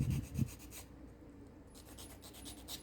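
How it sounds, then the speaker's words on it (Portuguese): Sandpaper rubbing a small clay pot for a diorama, a soft, close, raspy scratching in short back-and-forth strokes, quiet and alone. "você pega uma lixa, né? E dá uma lixada nele"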